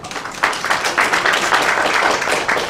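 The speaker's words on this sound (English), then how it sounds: "So if everyone can give them a big round of applause" Audience applause for a speaker at a lecture event, a dense wash of many hands clapping steadily and fairly loud for a few seconds, with no voices over it.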